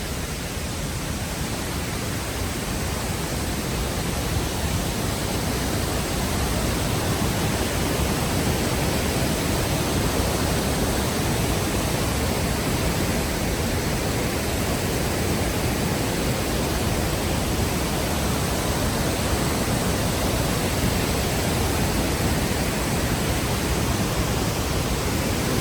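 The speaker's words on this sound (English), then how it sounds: "Beautiful waterfalls." A Himalayan waterfall on a rainy mountain trek gives off a loud, steady, unbroken rushing roar that stays even throughout, with no voices.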